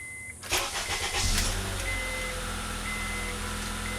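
A Honda Accord's blower motor switches on with a click, then a steady whooshing fan roar builds and holds at a constant level, close inside the car cabin, with a faint tone running beneath it.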